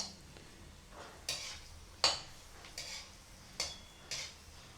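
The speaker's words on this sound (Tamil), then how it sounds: "அந்த எண்ணெயில் வரமிளகாயை போட்டு வறுத்துக்கணும்" Dry red chillies are roasted in a little oil in a pan and stirred with a spoon, giving a faint sizzle under a series of five or six soft, evenly spaced scraping knocks.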